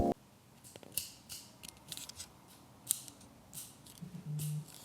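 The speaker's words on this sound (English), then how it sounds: "now it has 5 lever position clicks which allow for better consistency and accuracy during your fades and tapers" Sharp, light clicks from the taper lever of a Babyliss Lithium FX hair clipper, about a dozen separate ticks spread irregularly over a quiet room.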